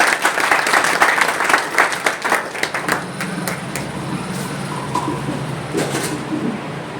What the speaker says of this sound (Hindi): जोरदार तालियों से स्वागत करें इनका